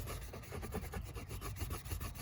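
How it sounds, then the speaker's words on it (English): A brush scrubs plastic parts of a rat cage in quick, steady back-and-forth strokes, a continuous close, soft rasping rub. "you just want to give it a good scrubbing"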